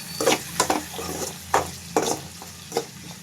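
Eggplant and tomato curry frying in a pan, cooked the old-fashioned way, with a steady soft sizzle and repeated stirring scrapes at irregular intervals, close and moderately loud, with no talking.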